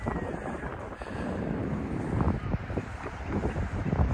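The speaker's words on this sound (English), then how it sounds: "We're in the wind." Wind at sea on a sea fishing trip off Prestatyn, North Wales, a steady, broad rushing roar with buffeting gusts hitting the microphone throughout.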